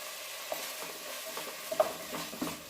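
Ginger garlic paste frying in a pan for paneer kofta, with quiet sizzling under a few distinct scrapes and clinks of a spoon stirring the paste, no voices.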